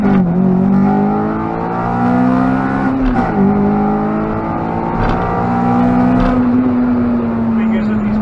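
A Honda Civic Type R EP3 runs through the gears from a rolling start, its engine rising steadily in pitch, dropping at each shift and climbing again, heard from inside the car with a steady road drone underneath.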